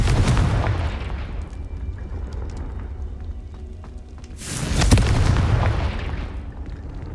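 Confringo spell explosions in the Hogwarts Legacy video game, two heavy booming blasts about four seconds apart, each with a loud burst and rumbling decay, close and loud without talking.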